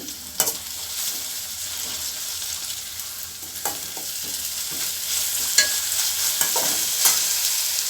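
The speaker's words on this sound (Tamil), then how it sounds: "இப்போ இதுக்கு தேவையான உப்பை கொஞ்சம் நம்ம சேர்த்துக்கிட்டு வதக்குவோம்" Hotel-style vada curry base with salt being sautéed in a pan, giving a steady close sizzle with intermittent spatula scrapes and clicks that grow busier toward the end, no voices.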